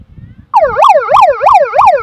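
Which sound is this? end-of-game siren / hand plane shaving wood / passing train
end-of-game siren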